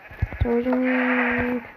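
A sheep in the video game Minecraft gives one long, loud, steady bleat, preceded by a few short clicks.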